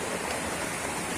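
A waterfall gives a loud, steady, broadband rush with no breaks, close up and with no voices.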